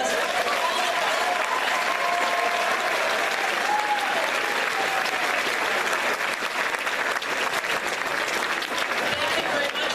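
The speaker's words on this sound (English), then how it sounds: "Can we please have a round of applause?" An audience at a senior oratorical contest gives a sustained round of applause, a thick, even wash of clapping from many hands that holds steady for the full length, with faint voices underneath.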